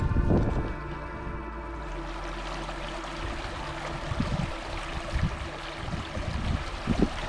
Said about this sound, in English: And I love the sound of the water.